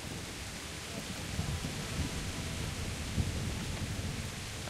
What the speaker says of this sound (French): Avec la pluie, j'entends rien du tout par contre.